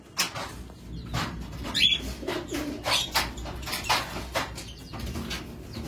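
Madrasi and Kaldum pigeons coo in a loft, with soft throaty calls mixed with scattered chirps, rustling and wing flutters, close by and without speech.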